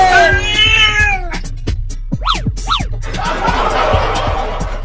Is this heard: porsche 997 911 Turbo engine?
no